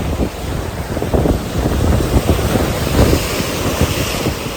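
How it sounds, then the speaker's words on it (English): Sea waves pounding rocks along the Fort Kochi shore in Kerala on a sunny day, a loud rolling roar with repeated surges and heavy wind buffeting the microphone. "You can see how the sea is hitting the rocks so hardly."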